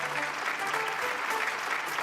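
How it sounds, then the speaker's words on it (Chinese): A studio audience on a Chinese health talk show applauds a guest. The clapping is a continuous, even patter of many hands at moderate volume that fills the whole stretch without a break. "我们掌声送给阿姨，谢谢阿姨啊"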